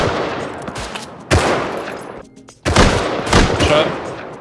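Video game gunfire rings out in two loud, sharp bursts of shots with echoing tails, separated by a quieter stretch with faint game background noise.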